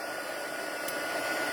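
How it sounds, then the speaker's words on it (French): A heat gun for heat embossing blows a steady, close, even whooshing hiss with no pauses. "On chauffe avec un pistolet chauffant."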